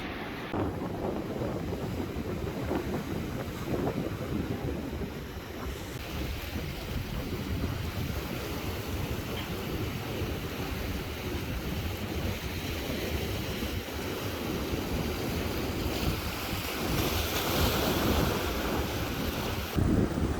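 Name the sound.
ocean waves crashing on a winter beach, wind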